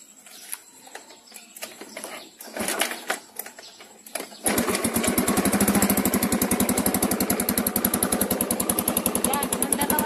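A Yamaha Mio Sporty scooter with a freshly cleaned carburetor is cranked over a few times, then catches and settles into a steady, loud, rapid idle putter up close.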